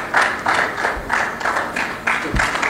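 Conference audience applauding, a steady wash of clapping that swells in repeated waves at moderate volume for the whole stretch.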